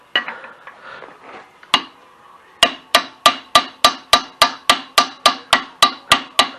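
A steady series of about fourteen sharp, evenly spaced hammer blows on a metal part, struck with an ordinary hammer rather than a dead blow one. A few lighter taps and a single hit come first.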